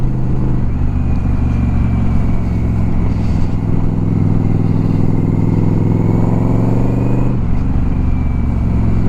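A Yamaha Royal Star XVZ1300 cruiser motorcycle with a single-carb swap rumbles steadily while riding, a loud, close, continuous engine drone holding even with a brief dip near the end.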